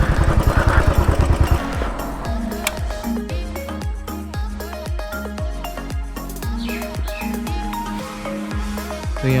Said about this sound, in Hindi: तो यहाँ पे हम लोग गाड़ी और बाइक पार्क करेंगे।